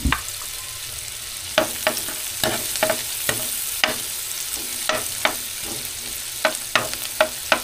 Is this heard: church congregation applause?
no